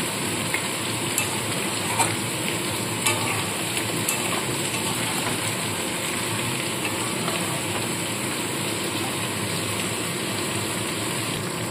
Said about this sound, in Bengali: মশলাটা দিয়েও খুব ভালো করে কষিয়ে নিচ্ছি।